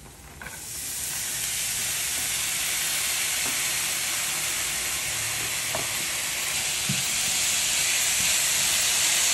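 Finely diced raw potato cooking in a pan with no oil, giving a steady, loud hiss and sizzle throughout with faint occasional ticks.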